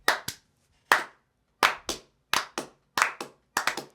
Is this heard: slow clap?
yes